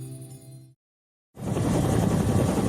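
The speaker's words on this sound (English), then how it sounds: "Sitting next to me, in the back of a Bell 212 helicopter" A Bell 212 helicopter drones in a loud, continuous whir with rotor chop, coming in after a brief silence and holding steady at close range.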